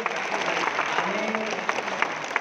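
An audience applauds at a gathering with cataract surgery patients, dense continuous clapping filling the moment while a speaker's voice briefly cuts through.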